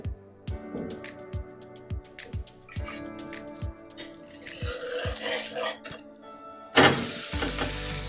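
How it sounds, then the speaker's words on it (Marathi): Millet and fenugreek pancake frying in oil on a pan, with a steady sizzle and a regular series of soft tapping knocks, growing busier toward the end with a louder burst of hissing. "आता खालची बाजू आपल्याला छान अशी खरपूस भाजून घ्यायची"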